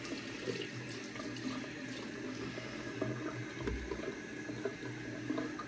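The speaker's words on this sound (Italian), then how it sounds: "iniziamo a sciacquare il viso innanzitutto" Hot tap water runs quietly into a sink for rinsing a face, a soft continuous splashing with small shifts as hands move through the stream.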